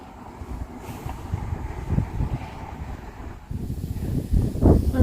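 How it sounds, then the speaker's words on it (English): Low, rumbling wind buffets the microphone throughout at Bagnell Dam, Lake of the Ozarks, with gusty surges that grow louder toward the end; no one speaks. "I still don't have a microphone, so it's windy."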